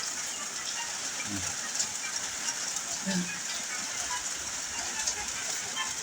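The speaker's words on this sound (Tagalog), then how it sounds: "Napakalakas po ng ulan oh." Heavy rain pours down steadily near a road, a dense, continuous hiss that fills the scene at an even loudness, with a faint voice surfacing briefly underneath.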